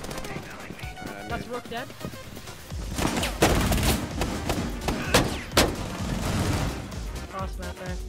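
Rapid gunfire shooting through a wall in Rainbow Six Siege, loud bursts and fusillades with thuds and footsteps, over a voice speaking during the match.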